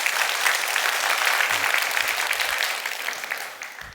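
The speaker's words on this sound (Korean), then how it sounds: "박수 한번 크게 한번 해주시고" A church congregation at a Wednesday service claps in sustained, dense applause that starts strong and slowly tapers off over a few seconds, with no voices over it.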